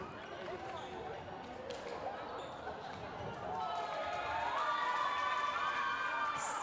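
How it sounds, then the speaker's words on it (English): A large indoor crowd cheers and shouts at a university badminton match in a sports hall, a steady loud roar that swells louder partway through. "If you're wondering what that very loud cheering is, I believe there was some fantastic success for the women's badminton"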